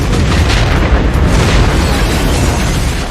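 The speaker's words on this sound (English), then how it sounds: "I love explosions." A film explosion from the 1999 movie Payback, a loud, dense roaring blast that fills the whole clip with rumbling, crackling debris noise and fades only slightly over three seconds.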